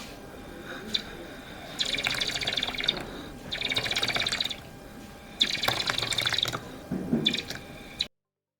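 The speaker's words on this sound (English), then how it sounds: "So the water is going down gradually." Water trickles and splashes in bursts between stacked cups during a home air-pressure experiment for kids, with several intermittent pouring and dripping spells separated by pauses, close by and moderately loud.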